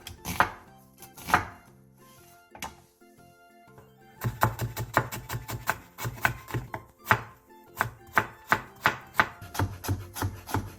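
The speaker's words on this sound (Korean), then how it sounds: "양파 4분의 1개와 당근 조금을 채 썰어주세요" A knife julienning a quarter onion and a little carrot on a cutting board, steady rapid chopping taps close by, with a brief pause before a faster unbroken run of cuts.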